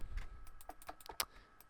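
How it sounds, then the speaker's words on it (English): Loud clacking computer keyboard keys are struck in an irregular, quick rhythm, close and alone, with a few sharper taps standing out. "you're glad that my keys are so loud"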